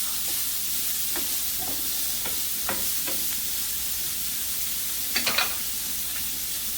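Garlic and green peppers fry in bacon fat for red beans, a loud continuous hiss and crackle close up, with scattered spoon taps and a quick cluster of clicks near the end.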